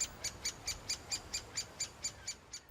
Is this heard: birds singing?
yes